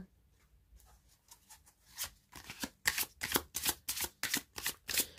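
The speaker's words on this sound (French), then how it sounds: "pour le domaine sentimental, je vais tirer 3 autres cartes" Tarot cards being shuffled and drawn: soft papery flicks at first, then a run of louder, rhythmic riffling bursts, close and alone with no talk.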